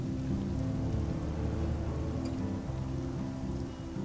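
Steady rain falls in the video game Life is Strange, a dense, even hiss of drops on surfaces that holds at a constant level for the whole stretch, with no voices over it.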